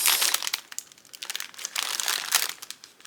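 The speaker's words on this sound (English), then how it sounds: "Sorry for the crinkling." Plastic packaging crinkling as it is cut open by hand, a close, continuous rustling and crackling with uneven bursts throughout.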